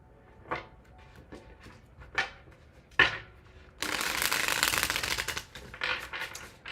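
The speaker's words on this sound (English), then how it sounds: "Last shuffle." Tarot cards are shuffled by hand in a few quick riffling bursts, then a longer louder stretch of rapid flicking and a few softer shuffles after, close by with no talk.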